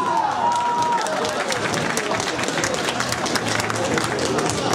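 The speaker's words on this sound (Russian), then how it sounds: "Ваши аплодисменты этому мужественному человеку с большой буквы" A café audience applauds and cheers, dense continuous clapping with crowd noise at a steady level throughout.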